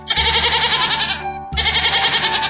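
Goat bleating in a farm-animal word lesson, two drawn-out nasal cries separated by a brief pause, close and loud with no voices.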